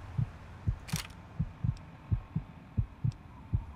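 A slow, steady heartbeat thumps in Fallout 3, low and muffled, repeating about eight times at an even pace with a brief bright burst partway through, no voices over it.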